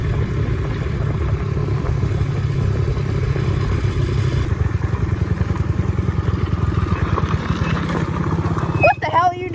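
Dirt bike engine running steadily near a cabin, a continuous buzzing drone with rattling clatter throughout, ending in a brief burst of noise, with voices talking over it.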